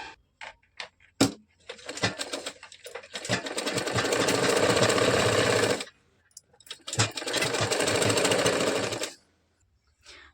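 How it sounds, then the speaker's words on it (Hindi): A sewing machine stitches a katori blouse in two long, steady runs of loud mechanical whirring. Short clicks and handling knocks come before and between the runs, and no one speaks. "अब आप चाहें तो यहाँ पे ऊपर में एक सिलाई चला सकते हैं"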